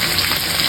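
Fish frying in hot oil, a steady dense sizzle and crackle heard close up without any talk.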